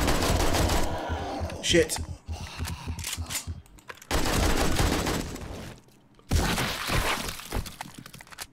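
Gunfire in the survival video game 7 Days to Die rattles in loud, close bursts, then drops to near silence before another burst. A player swears and talks over the shooting.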